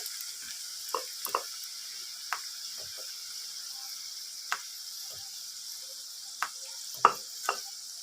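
Pea-stuffed kachori deep-frying in hot oil, a soft steady hiss of bubbling oil broken by scattered sharp pops and crackles, close and fairly quiet, no talking.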